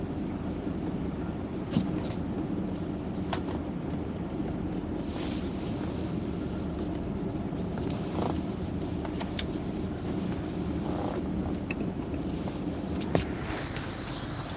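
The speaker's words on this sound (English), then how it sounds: "Wow, it's windy out there, holy cow." Steady, strong wind buffets the microphone outdoors in snowy Pacific Northwest weather, a continuous low roar with a few brief knocks and no talking.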